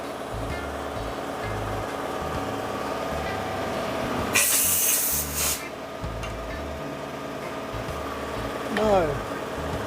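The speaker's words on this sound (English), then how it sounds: "Sorry about the compressor running." An air compressor runs steadily in a workshop where a synthetic shaving brush is being made. It keeps up a constant droning hum, with a louder burst of hissing air in the middle.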